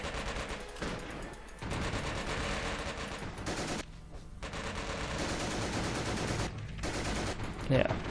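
Sniper and machine gun fire in the Company of Heroes video game, with dense rattling bursts and shots layered over battle noise, broken by a few brief lulls.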